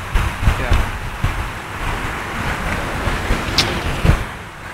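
Waves at the beach in Chorrillos wash in a continuous surf roar with wind across the microphone and a few soft bumps, with no talk over it.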